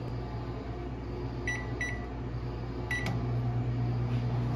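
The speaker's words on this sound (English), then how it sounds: "I'm about to pop this in the microwave and we about to eat." A microwave oven heating leftover food at lunchtime hums steadily up close, with a few short electronic beeps partway through and no voices.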